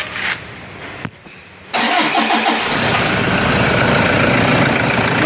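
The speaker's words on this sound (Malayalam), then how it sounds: "വണ്ടി ഒന്ന് സ്റ്റാർട്ട് ചെയ്ത് നോക്കാം" A Toyota Fortuner engine is started after an alternator replacement: a brief crank, then the engine catches and settles into a loud, steady idle close by.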